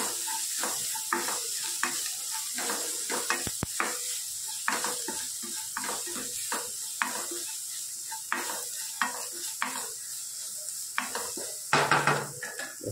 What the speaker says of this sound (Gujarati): ધીમા તાપે થોડુંક શેકાવા દઈએ,